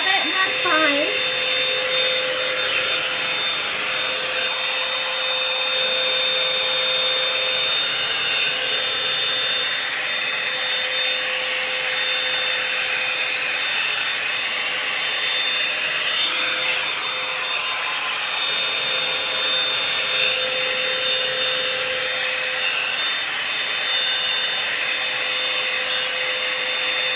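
A Revlon One-Step hair dryer and volumizer runs steadily and close by with a constant airy whir and a thin high whine, holding unbroken for the whole stretch with no talk over it.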